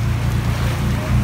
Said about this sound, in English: there is a massive boat.